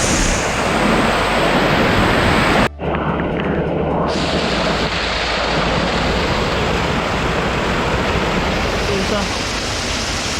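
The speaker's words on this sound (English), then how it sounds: "So friends, I am at waterfall just before the Valley of Flowers." Roaring waterfall near the Valley of Flowers trek, a dense, loud, continuous rush of falling water close by, with a brief dropout early on and no pause in the steady roar.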